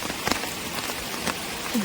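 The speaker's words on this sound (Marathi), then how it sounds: "कोकणामध्ये जोरदार पाऊस आहे" Heavy monsoon rain in the Konkan drums on a nearby surface in a dense, constant patter, with a few louder drops standing out.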